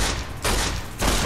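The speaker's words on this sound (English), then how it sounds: "I almost would rather not have to shoot you. But you forced my hand." Gunfire in the video game Fallout New Vegas, two loud, noisy bursts separated by a short gap, close and harsh.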